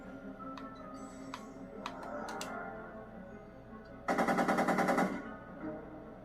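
In the Back to the Future video game, a gun fires one close, rapid burst of evenly spaced shots lasting about a second, after a stretch of quiet ambience dotted with a few sharp clicks.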